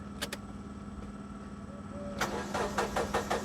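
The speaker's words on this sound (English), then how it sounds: "Now we've cranked the engine" A Mazda 6 engine cranks over with a rapid repeated churning, then catches; a couple of sharp clicks come first over a steady low background hum.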